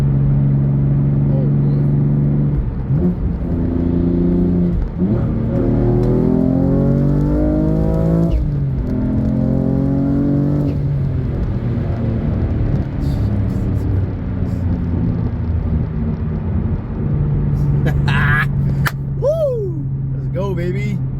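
A BMW F80 M3 accelerates hard through the gears, its engine note rising and falling loudly in repeated pulls with shift breaks, the strained revving continuous and close throughout the run.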